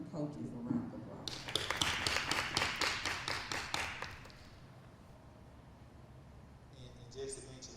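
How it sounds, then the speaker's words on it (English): Brief applause for school coaches at a district board meeting, a burst of clapping from a modest room that swells and fades over a few seconds, with voices before and after. "let's give those hardworking coaches a round of applause"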